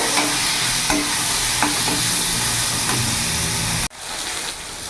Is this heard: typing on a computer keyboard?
no